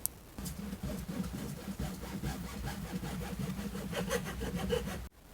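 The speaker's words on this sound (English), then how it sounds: "I'm going to use a hacksaw to hopefully cut this nice and smooth" A hacksaw cuts through a rubber bump stop for a 2000 Dodge Dakota, held in a vise between pieces of wood: close, steady back-and-forth rasping strokes for about five seconds, then the sawing stops abruptly.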